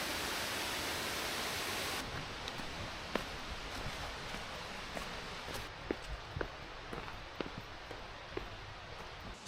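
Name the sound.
waterfall rushing in the Lake District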